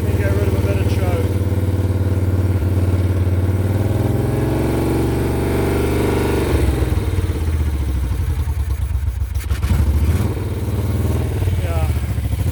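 Moto Guzzi Eldorado motorcycle idling on choke, a steady close low throb with mechanical clatter that shifts and loosens midway as the revs change, with someone talking over it.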